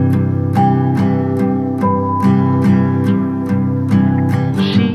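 Wall clock steel chime rods struck with a mallet and processed through effects, a steady pulsing pattern of repeated ringing hits over a dense sustained tonal wash, loud and alone.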